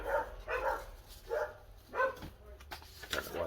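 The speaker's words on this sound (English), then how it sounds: "Don't know why the dogs are barking" Several dogs bark in bursts, a few sharp woofs spaced irregularly at moderate distance, with faint room noise between them.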